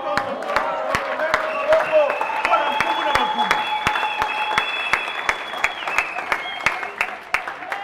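Church congregation applauding: a dense, steady round of clapping from many hands, fairly close, with a sustained musical tone and some voices underneath.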